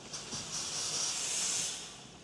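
A faint, sizzling hiss swells and holds for about two seconds, then fades, like gas escaping from a low greenish-yellow gas cloud, with no voices.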